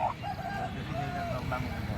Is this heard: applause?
no